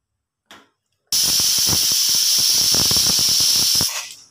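A pressure cooker steaming kalthappa rice cake lets out a short puff. A loud, sustained whistling hiss of escaping steam follows, wavering for about three seconds before it cuts off and fades.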